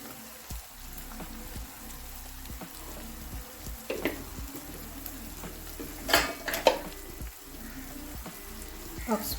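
Spices stirred into fish curry in a pan: soft quiet sizzling under scattered spoon clinks and scrapes against the pan, close and faint with no talk.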